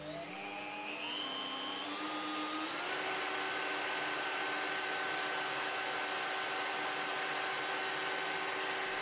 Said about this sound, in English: turn the front red knob to the right to start the drill